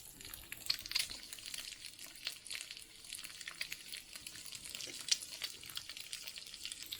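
Lao Gan Ma fried chilies crackle and sizzle in oil, a faint, steady fizz broken by sharper pops and spits.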